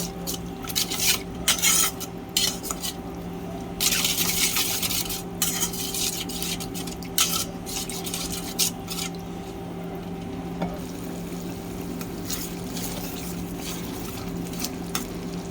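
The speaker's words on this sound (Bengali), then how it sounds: "এখন হলুদ গুঁড়া, মরিচ গুঁড়া, ধনিয়া গুঁড়া, লবণ এগুলো ছেড়ে দিলাম। এখন ভালো করে কষাবো।" Turmeric, chili and coriander powder with salt are stirred and sautéed in a pan for potato lentil curry, giving repeated scraping spatula strokes and metallic clinks over a low sizzle and steady hum, with no voices.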